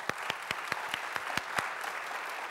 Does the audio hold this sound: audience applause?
yes